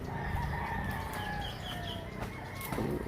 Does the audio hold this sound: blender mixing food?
no